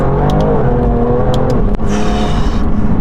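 A BMW M2 Competition accelerating hard on a public road, heard from inside as a loud, continuous engine roar rising through the revs with a quick gear change partway, with no one talking over it.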